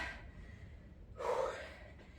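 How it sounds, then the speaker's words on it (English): Heavy breathing during a strength training session, a soft airy exhale followed by a louder, sharper huff midway, close to the microphone and without speech. "You see I'm huffing and puffing a little bit here."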